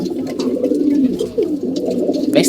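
Pigeons coo steadily and close by, a continuous layered murmur of low throaty calls from several molting birds, some older adults among them, with a few brief sharper sounds breaking through.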